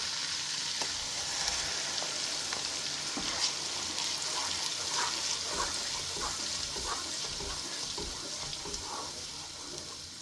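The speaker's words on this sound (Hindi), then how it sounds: "अब हम सबसे पहले इस पैन में प्याज डालेंगे" Onions sizzle and fry in a pan while Lahori chana is cooked. The hiss is steady and fairly quiet, with small crackles and stirring scrapes throughout and no talking.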